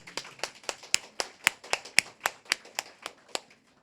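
A congregation at a church tenth-anniversary thanksgiving service claps in a quick, even rhythm of about fifteen sharp, close claps that fade out at the end, with no talking.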